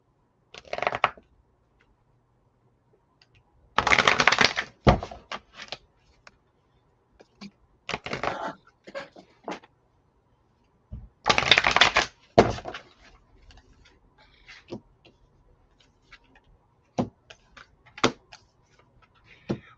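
Cards being shuffled in a few quick riffling bursts, with soft clicks and handling noises between them.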